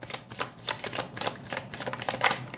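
Tarot cards drawn and shuffled from a deck, with quick papery flicks and slides in an irregular clattering run, close and alone.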